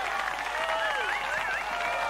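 Applause from the cooking-restaurant video game Delicious: Emily's Taste of Fame, a steady two-second burst of clapping with bright, whistle-like tones gliding over it, with no talking.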